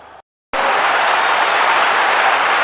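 A large football crowd cheers and applauds inside Old Trafford during a mid-1990s Wimbledon match. A steady roar of clapping and noise starts abruptly after a brief silence and stays loud to the end.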